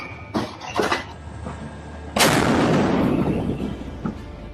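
A naval gun aboard the Type 055 destroyer Dalian fires at sea: a couple of sharp distant reports, then a heavy booming blast followed by a long rumbling roll that fades slowly.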